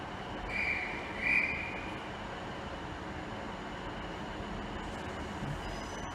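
A Great Western Railway class 153 diesel unit, 153370, runs through Salisbury station on a service to Great Malvern, giving a steady mid-distance rumble with a brief high squeal of wheels near the start; no voices.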